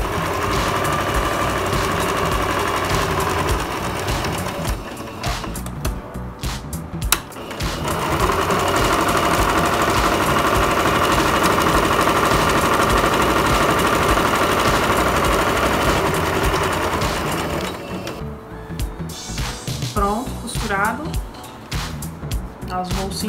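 A sewing machine runs in long steady bursts stitching the side seam of a fabric school pencil case, pausing briefly between passes, with someone speaking Portuguese over the machine.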